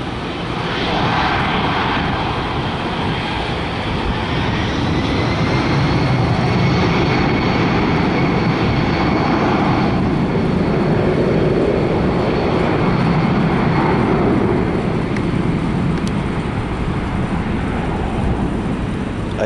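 A United Airlines Boeing 757-200 takes off with a loud, continuous jet engine roar that stays strong throughout and slowly shifts in tone as it climbs away.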